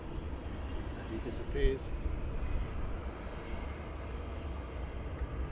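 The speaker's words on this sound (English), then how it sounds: "3 EasyJets now on the bounce, 2 taxiing down, 1 ready for departure." Steady broad roar of easyJet airliners taxiing at Luton Airport, heard from a distance as a constant wash of engine noise, with someone talking over it.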